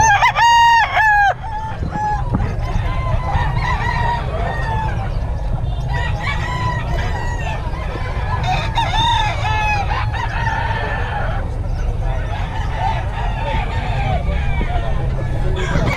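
Many chickens cluck and roosters crow over and over in a loud, crowded market in Bocaue, with the babble of people talking underneath.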